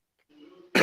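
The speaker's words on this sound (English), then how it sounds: "excuse me for the cough." A man hosting a Chelsea football news talk gives a single short, harsh cough right at the end, loud and close, after a moment of faint throat sound and near silence.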